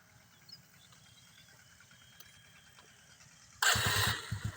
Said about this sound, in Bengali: বাইকটি স্টার্ট আছে